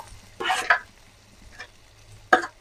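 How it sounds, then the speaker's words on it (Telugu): Tomato coriander chutney is stirred into a hot tempering in a pan, giving three short scraping, sizzling bursts up close with quiet pauses between them. "ఇప్పుడు ఈ పచ్చడిని ఈ పోపులోకి నీట్గా ఇలా కలిపేసుకున్నాము"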